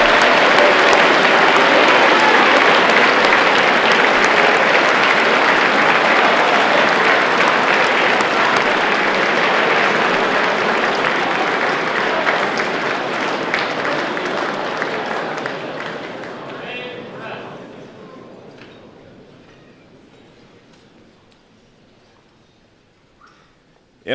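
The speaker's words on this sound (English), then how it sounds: "Please join me in a round of applause for these cadets." A large audience at a cadet colonel selection and promotion ceremony applauds the cadets in a long, dense burst of clapping that holds steady for about fifteen seconds and then tapers off to silence.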